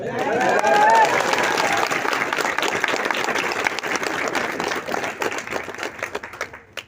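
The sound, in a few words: audience applause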